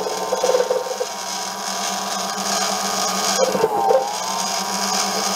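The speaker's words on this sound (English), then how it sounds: "Let's turn off some chips." A Manson Duo lathe turns and cuts chips in a steady mechanical whir with faint gear ticking, some belt or motor hum beneath, and a brief clatter midway.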